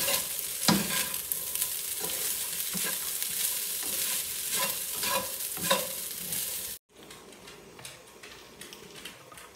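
Brown fried rice stirred and fried in a pan, with a loud continuous sizzle and repeated scraping strokes of a spatula in a quick rhythm, close up, before a sudden cut to a quieter sizzle.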